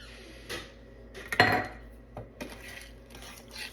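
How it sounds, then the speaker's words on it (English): A utensil scrapes and clinks against a bowl while vanilla and flour are stirred into a sugar butter pie filling, producing a few soft, close taps and one sharper clink. "stir all that vanilla in and the flour"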